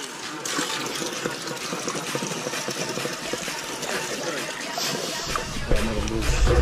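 Water gushes steadily from a public drinking fountain tap, a continuous broadband rush that stays loud and close for the whole stretch, with faint voices underneath.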